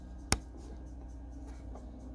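A single sharp click stands out near the start, a brief snap of a solar panel DC connector locking into place, followed by quiet low background hum.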